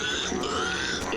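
A pig-chicken from the animated series Avatar: The Last Airbender gives a short run of grunting squeals, fairly faint and mixed into the cartoon soundtrack.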